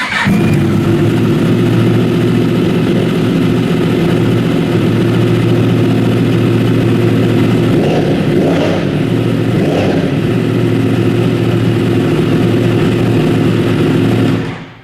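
A 2015–2017 Yamaha R1 sport motorcycle engine with a SkutrNet exhaust servo buddy installed starts and runs loud and close, with a strong steady idle and a couple of sharp throttle blips in the middle.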